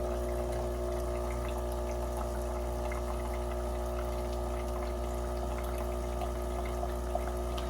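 A Lavazza Classy Plus coffee machine pumps hot water through its descaling cycle, giving a steady, low humming drone with a faint liquid trickle that runs unbroken and close by, with no talking.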